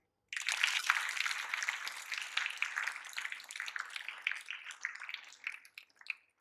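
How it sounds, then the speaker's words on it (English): Applause for students at a school celebration of the birth anniversary of Mahatma Gandhi and Lal Bahadur Shastri: a fairly faint, thin round of clapping from a modest audience that starts abruptly, carries on unevenly and tapers off, with no voices. "a big round of applause for them"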